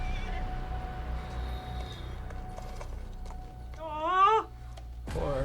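A horse in a video game whinnies with a loud, wavering neigh that rises and falls, preceded by quieter ambient game sounds and hoofbeats.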